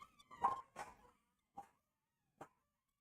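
A few short, faint yips or barks from a dog, apparently outdoors and at a distance, come in an irregular cluster followed by two isolated calls with silence between them.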